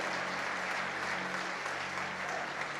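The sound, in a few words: church congregation applauding the Lord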